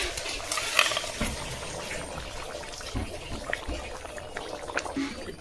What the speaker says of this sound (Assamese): এতিয়া আমাৰ উতল আহিছে।